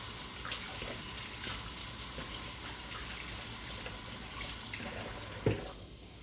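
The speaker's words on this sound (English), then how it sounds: "I'm gonna wash my hands" Tap water runs steadily into a sink while hands are washed beneath it, a faint, even hiss with a brief splash near the end.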